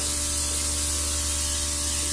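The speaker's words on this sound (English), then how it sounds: "So I'm very lightly spraying it along my neck" An airbrush sprays foundation lightly along the neck, a steady close hiss with a faint motor hum underneath, continuous and without any voice.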